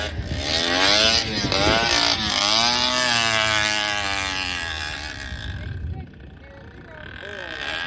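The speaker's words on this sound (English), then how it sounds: "A front-wheel drive motorcycle that almost looks like a bicycle." A front-wheel-drive motorcycle resembling a bicycle revs and drones loudly up close at Bonneville, its pitch sweeping up and down, with people talking over it before it fades.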